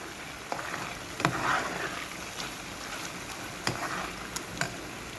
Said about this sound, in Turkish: Kavuruyorum.